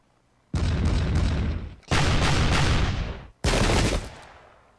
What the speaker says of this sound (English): Musketeers trying to shoot the cannon on the right.